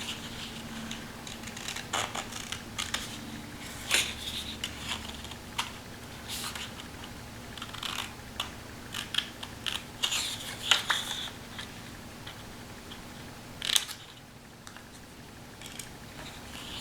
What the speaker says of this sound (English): we're going to fussy cut this triangle out of here.